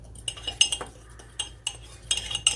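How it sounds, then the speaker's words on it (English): A fork stirs chocolate chip cookie batter in a mug, giving quiet scraping and irregular sharp clinks against the ceramic, close by and alone. "So you're going to take a fork and just mix it all up in there"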